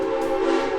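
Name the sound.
Silver Dollar City train passing by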